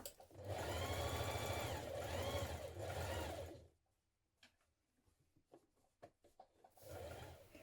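A sewing machine stitches a seam on a vintage-style coat sewn from a Simplicity 8769 pattern, running steadily and loudly for about three seconds before stopping. Faint handling clicks follow, then the motor starts again briefly.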